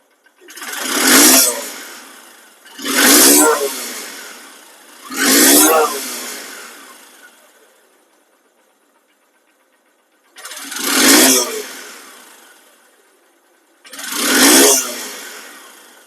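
A second-hand SP Shine CBS motorcycle engine revs up loudly five times, each roar swelling and fading, with short quiet gaps between.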